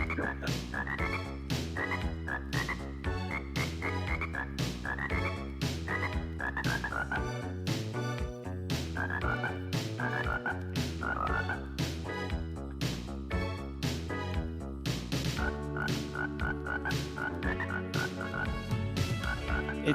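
Music track built from rhythmic frog croaks, a steady repeating beat of deep croaking pulses over a bass groove, loud and continuous with no talking.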